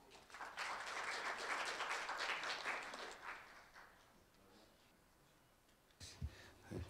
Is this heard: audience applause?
yes